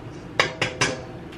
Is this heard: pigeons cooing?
no